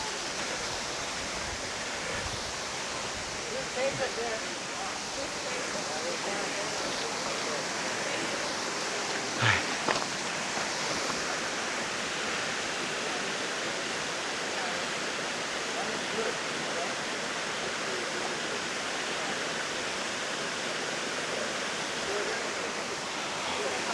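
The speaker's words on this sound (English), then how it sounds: "I can see the waterfall from here" Steady roar of a waterfall along a hiking trail at Bonita Falls in Lytle Creek, San Bernardino National Forest, heard from a distance as a constant wash of rushing water with faint background sounds.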